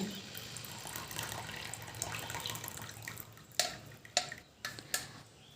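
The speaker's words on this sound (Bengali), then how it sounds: "এবার কিন্তু বাটির ভিতরে আমি এটাকে ছেঁকে নিয়ে নিচ্ছি" Hot tea hair remedy strained through a sieve into a bowl: a low trickle of pouring liquid, followed by a few sharp taps and clinks of utensils against the bowl, near and faint.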